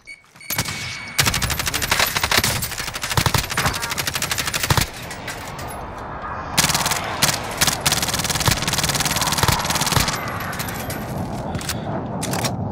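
Heavy automatic gunfire from Call of Duty: Modern Warfare hammers almost without letup. Long rapid bursts come close and loud, broken by a few short pauses, with no talk.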